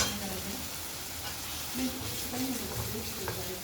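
Masala for rajma sautéing in a pan, a soft, continuous sizzle with faint stirring, low in level, with a voice murmuring at times underneath.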